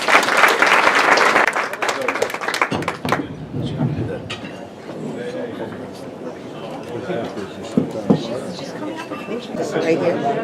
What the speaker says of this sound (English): please join me in a round of applause for the officers and board members that are here today